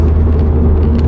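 A 9th-generation Honda Civic Si (FB6) engine gives a loud, steady low rumble for a moment, heard from inside or near the car, with no sharp climb in pitch.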